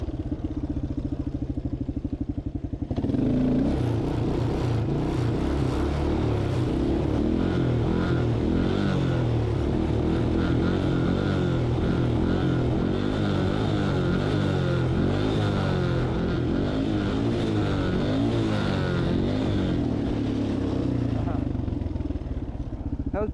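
Motorbike revving hard during a wheelie attempt, a raw engine roar rising and falling in surges with clattering mechanical noise, close to the microphone over a low background rumble.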